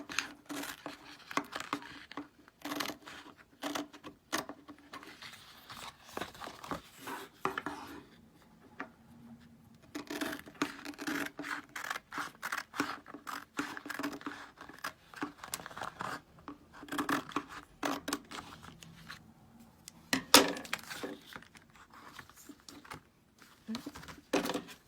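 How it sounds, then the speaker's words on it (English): Scissors snip through a Chalk Couture transfer sheet to cut out a large logo, giving steady close crisp cuts and rustles for the whole stretch, with brief quiet pauses and no talking. "So that's all I'm cutting out right now."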